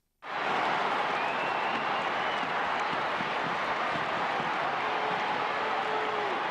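A stadium crowd of about 30,000 roars at an Australian football grand final between Adelaide and Geelong, a dense, constant wall of cheering and clapping that swells in abruptly and holds loud.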